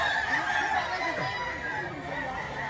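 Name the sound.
chickens and roosters at a poultry market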